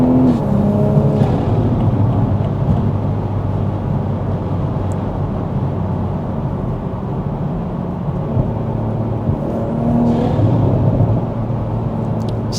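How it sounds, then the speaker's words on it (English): A Toyota GR Supra fitted with a titanium exhaust and ArmaSpeed intake rumbles during a night drive, its engine droning loud and steady with a rising swell of turbo and overrun near the end. "So you get the lovely turbo noise, and then you get that like really distinct overrun"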